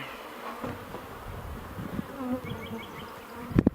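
Honeybees buzz around a beehive in a soft, continuous hum, with a few brief louder knocks at the end and no talk.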